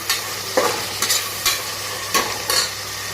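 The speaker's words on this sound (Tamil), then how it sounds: "தக்காளி போட்டு நல்லா வதக்கி விடுங்க." Tomatoes for tomato rice are sautéed in a pan, a steady sizzle punctuated by about six sharp spatula scrapes and knocks at irregular intervals, close and loud with no speech.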